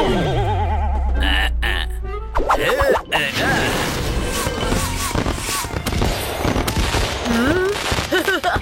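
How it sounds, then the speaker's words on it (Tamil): A firework rocket launches with a rising whistle, followed by a loud burst of crackling, popping and banging with scattered bright squeals, dense and close. "புது ஸ்டைல்ல நீங்க ராக்கெட் விட்டீங்க"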